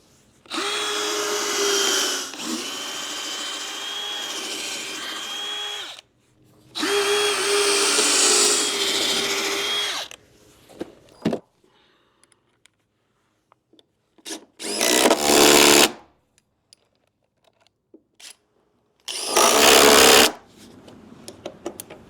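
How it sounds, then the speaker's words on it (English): A small impact driver sinks lag bolts through a replacement shed ramp into the shed face: two long, loud stretches of rattling hammering, then a few shorter bursts with quiet gaps between. "This little impact is doing the best it can, but it's not able to get them as deep as I want."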